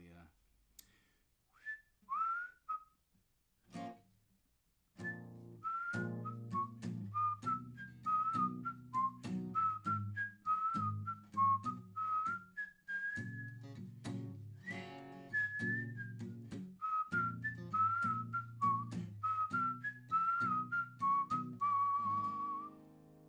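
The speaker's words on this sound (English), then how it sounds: "I don't whistle great, so the end is usually" A person whistles the closing melody of a song during a live online concert, a clear wavering tune carried alone for about twenty seconds with short breaks, fairly loud and close.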